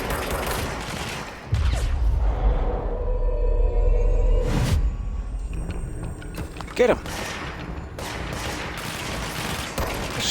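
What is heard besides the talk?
gunfire in the video game Control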